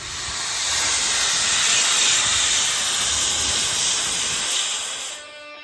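A cutting torch slicing the old spring perches off an 8.8 rear end on a 1956 Chevy, giving a loud, steady roaring hiss that holds for about five seconds and then drops off.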